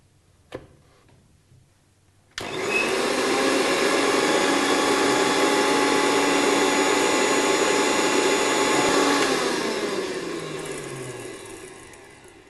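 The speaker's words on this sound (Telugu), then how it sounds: "ఈ మిశ్రమాన్ని మిక్సీ చేసుకుందాం" A kitchen mixie blender grinds a coconut masala mixture for potato and drumstick curry, starting abruptly with a loud steady whir that runs for about seven seconds before winding down and fading out.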